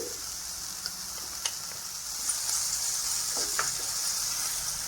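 Sautéed capsicum tossed with grated coconut in a pan with the stove just turned off, a soft lingering hiss with light, scattered scrapes and taps of a spoon, no speech.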